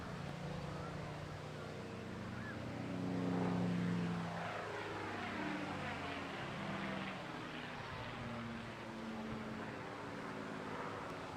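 A Spitfire Mark 9 propeller fighter in desert camouflage flies at the Bournemouth Air Festival, its engine drone rising and falling with shifting pitch as it passes, fairly distant, with a commentator's voice talking over it.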